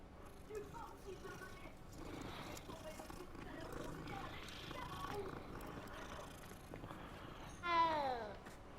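A cat meows near the end of a Hogwarts Legacy gameplay clip, a short rising cry over a busy game soundtrack with faint background voices.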